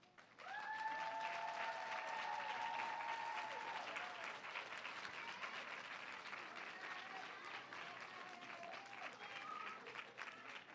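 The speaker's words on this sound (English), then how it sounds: "Please give them a round of applause." Sustained, full audience applause fills a large hall at a 2024 nursing college graduation ceremony, steady and dense for about ten seconds, with a brief voice heard faintly at the start.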